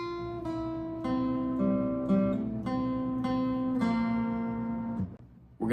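Acoustic guitar fingerpicking pattern from a song, clear and close with plucked notes ringing over steady chord shapes, fading at the end.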